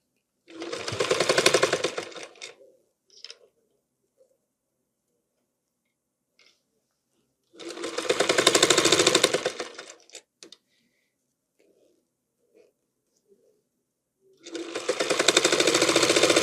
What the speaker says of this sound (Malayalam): ഓക്കെ, ഇവിടെ നിന്നാണ് സ്റ്റിച്ചിങ് സ്റ്റാർട്ട് ചെയ്യുന്നത്